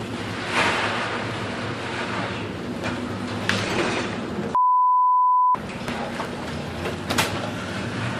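Storm waves at sea surge and crash in a continuous loud roar, with one second cut out and replaced by a steady censor beep before the rushing water returns.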